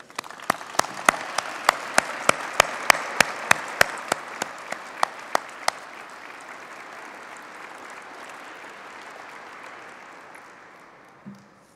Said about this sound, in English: join me in applauding the members of this great family